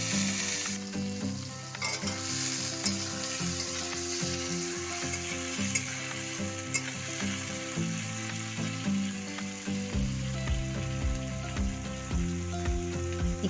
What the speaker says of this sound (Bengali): এরপর কুচিয়ে রাখা পেঁয়াজ দিয়ে ভালো করে নাড়তে হবে।